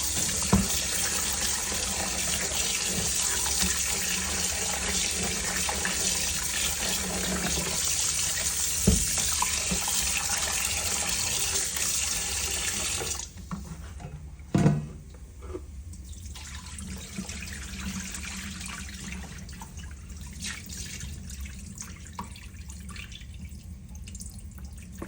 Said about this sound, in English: We're gonna wash it off with the warm water.